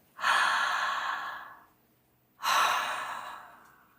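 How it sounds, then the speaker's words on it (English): Two slow, deep breaths, each a long airy exhale that fades out, with a short pause between them, close and clear with no talking during a guided meditation session. "You can hear the breath."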